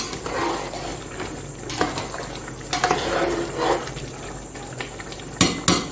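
A spoon clanks against a pot while garam masala is stirred into meat and rice, giving scattered sharp metallic knocks over a soft scraping, bubbling background.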